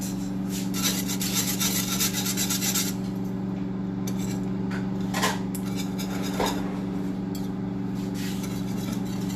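A large stainless steel whisk works through mac and cheese in a stovetop pot, with a continuous metallic scraping and rubbing over a steady low hum, and a few louder knocks against the pot.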